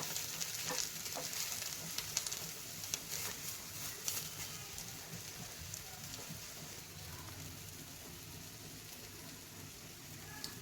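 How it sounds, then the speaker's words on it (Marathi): Egg bread frying in butter on a pan, a faint, steady crackling sizzle that tapers gently, with scattered small pops and one or two soft taps near the start. "आणि व्यवस्थित भाजून घेऊया."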